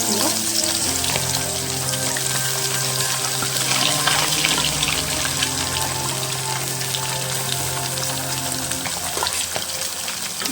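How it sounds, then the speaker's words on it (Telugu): Small fish fry in hot oil, a loud, steady close sizzle and crackle that continues throughout with faint clinks of stirring. "ఆయిల్ అయితే హీట్ అయిపోయింది ఇప్పుడు మనం చేసుకున్నవి వేసేసుకుందాం"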